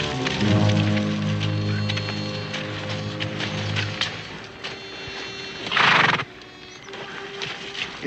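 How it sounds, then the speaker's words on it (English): Horses whinny loudly at the start, followed by scattered hoof clops and shuffling at an outdoor wagon camp at dusk, with a brief burst of noisy rustling near the end. "Now, I'll hitch the horses"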